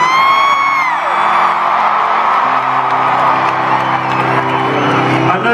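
Concert crowd in Charlottesville, Virginia, cheering and whooping loudly and continuously, a dense roar of many voices with shouts rising above it, close and full.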